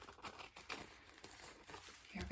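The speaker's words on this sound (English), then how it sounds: "I'm going to cut out a little square with my trusty scissors." Scissors snip through paper to cut out a small square, producing faint, irregular crisp crinkling cuts close by at low volume.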